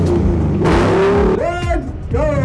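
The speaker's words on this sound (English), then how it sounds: "rev that" A car engine revs hard at a cars and coffee meet, with loud sustained rising and falling tones that swell twice, close to the listener, while voices talk over it.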